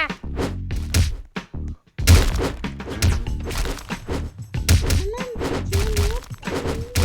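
Video game fight with a character trading blows: a run of dull thumps and whacks in quick irregular bursts, some heavy thuds, with a short pause early on, close and fairly loud.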